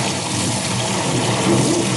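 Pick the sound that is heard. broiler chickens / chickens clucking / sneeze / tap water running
tap water running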